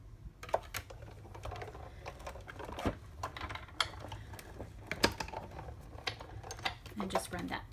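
A die-cutting machine runs crumb cake cardstock through scalloped oval framelits, giving a steady string of small clicks and ratcheting taps over faint background murmur.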